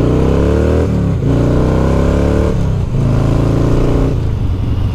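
A Harley-Davidson Heritage Softail motorcycle's V-twin engine revs loudly and close, climbing through several throttle sweeps with brief drops between them, with no voices.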